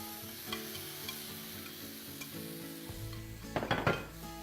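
Marinated chicken with tikka-style spice masala sizzling and being stirred in a pan, a steady fry hiss with scraping and clinking utensil strokes that grow louder near the end.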